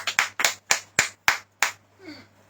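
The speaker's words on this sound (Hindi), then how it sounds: "ताली बजाएंगे सब जन" A church congregation clapping hands in unison, six sharp, evenly spaced claps ringing out loudly in a steady rhythm before fading into quieter room sound.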